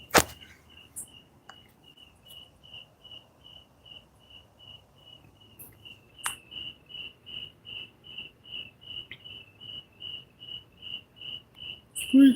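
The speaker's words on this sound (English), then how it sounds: "My crickets are creaking." Crickets chirping indoors in a room, a steady, evenly pulsed high trill repeating for many seconds, fairly loud and close, with a few soft knocks and clicks around it.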